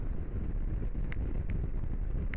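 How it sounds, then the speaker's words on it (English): Strong wind roars and buffets continuously into the microphone while riding a Honda NX500 motorcycle on a stormy day, with a few brief sharp clicks. "It is now really windy."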